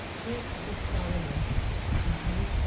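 Heavy rain pouring steadily at a farmhouse in Kollengode, a dense continuous hiss with no break and no voices.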